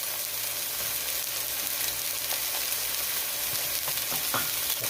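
Italian sausage sizzling in a pan as it is broken up, a steady close frying hiss with scattered scraping and stirring taps from a utensil, and no talking.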